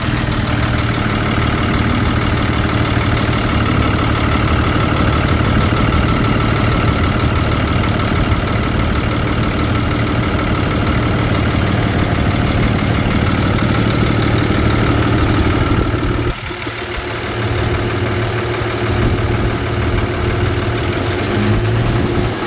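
The diesel engine of a 2013 Ford F-750 Altec forestry bucket truck with a 75 ft boom idles loud and close with a steady low rumble and a slight dip in sound partway through.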